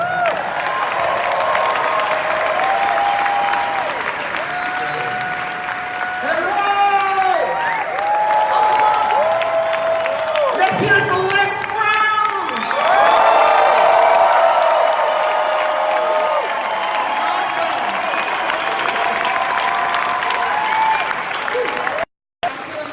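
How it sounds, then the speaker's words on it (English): An audience applauds at a live motivational speaking event, a long, dense, sustained wave of clapping with whoops and voices rising over it. "give her a round of applause."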